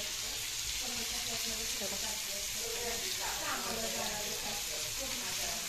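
Fish fries in a pan in a home kitchen, giving a steady, close hiss of sizzling oil throughout while a person talks over it.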